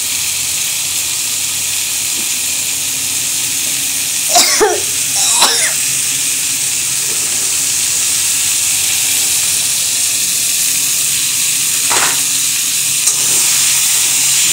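Broad beans frying in a pan for a fish-head curry, a steady bright sizzle throughout, with two brief stirring scrapes near the middle and another faint one later.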